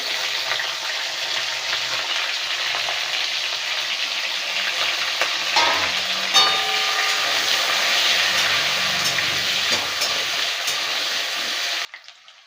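Potatoes fry in hot oil with cumin seeds and bay leaf, giving a loud, steady sizzle with some stirring scrapes. The sizzle cuts off abruptly near the end.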